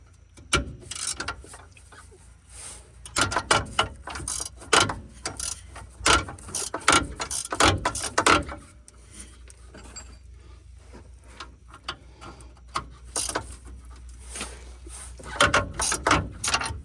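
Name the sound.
ratchet wrench slipping while removing El Camino shocks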